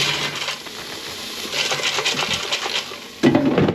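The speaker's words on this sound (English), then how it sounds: "I'm just gonna throw these in the air fryer" Food pieces tossed into an air fryer basket land as a quick scatter of light metallic clatters and taps, ending in a louder, close rattle.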